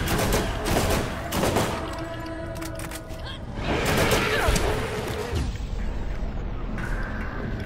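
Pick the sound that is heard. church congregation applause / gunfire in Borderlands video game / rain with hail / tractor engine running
gunfire in Borderlands video game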